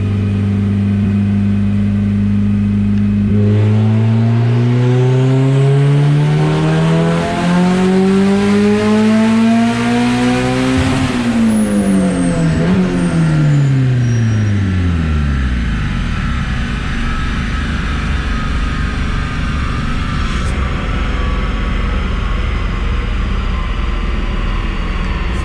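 A turbocharged B16A engine in a 300 WHP swapped Honda Civic EK makes a full pull, revving up through the gears in loud rising sweeps with a sharp shift, then decelerating with falling engine tone and hiss.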